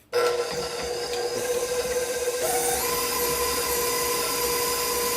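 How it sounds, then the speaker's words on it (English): An electric hand mixer creaming soft butter and sugar for cowboy cookie dough in a home kitchen starts up abruptly and whirs steadily and close, its motor pitch stepping up midway, with no talking. "Let me let up my mixer right here, and I'm just going to cream it."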